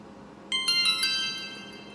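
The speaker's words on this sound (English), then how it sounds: "you're going to hear that ding, you know. So it tells me the unit is on" A short bright electronic chime from a Yi Lite action camera powering on, a few quick ascending tones, clear and close, ringing out briefly before fading.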